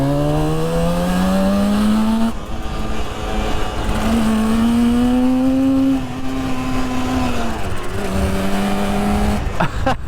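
A 1966 Suzuki 150 two-stroke motorcycle engine runs loud and close, its buzzing drone rising and falling in pitch through several revs across the whole stretch.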